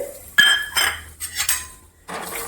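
Metal utensils scrape and clink against an oiled pan roasting peanuts, in a few quick strokes, close and fairly loud, with short pauses between.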